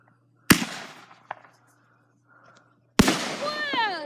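Consumer fireworks, rainbow and Kraken shells, go off in two loud sharp bangs followed by fizzing and crackling, with a smaller pop between them, then whistling, rising streaks as the second shell bursts; people talk faintly nearby.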